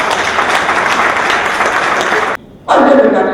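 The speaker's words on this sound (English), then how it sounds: "Applaudissez pour les enseignants." Audience applause for teachers at an International Day of Education gathering: dense, steady clapping from a crowd that cuts off abruptly, then a brief burst of louder, closer noise.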